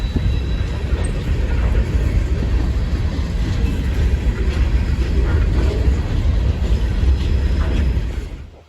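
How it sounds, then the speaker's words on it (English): An Amtrak passenger train rolls southbound past a waiting CSX freight train in town, a loud, steady rumble of wheels and rail noise that holds throughout and then fades slightly at the end. "Amtrak 79 rolls southbound past X653 with number 150 in command."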